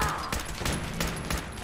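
Rapid gunfire from a weapon in the video game Fallout 4, a brief burst of four or five loud shots in even rhythm.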